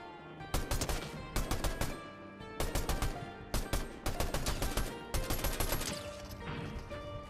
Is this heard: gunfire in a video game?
yes